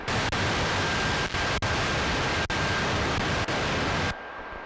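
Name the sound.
type C lo-fi noise algorithm from Artifacts iPad app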